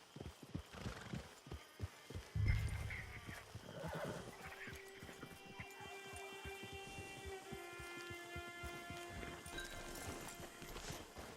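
A horse in Red Dead Redemption 2 gives a drawn-out neigh over steady clip-clop of hooves, with game ambience in the background and moderate volume throughout.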